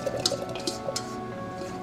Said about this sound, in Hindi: दो गिलास पानी डाले हैं मैंने इस प्रेशर कुकर के अंदर।